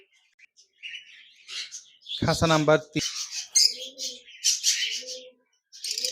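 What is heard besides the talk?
lutino lovebirds chirping in cage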